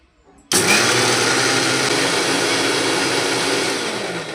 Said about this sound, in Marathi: तर हे सगळं वाटून घ्यायचं आहे आपल्याला आणि डाळ पण आपल्याला वाटून घ्यायची.